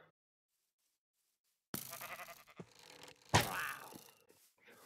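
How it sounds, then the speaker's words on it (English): Minecraft sheep bleats in a game, after a quiet start: a burst of wavering bleating, a short gap, then a louder second bleat close up, with faint thuds around them. "Move sheep."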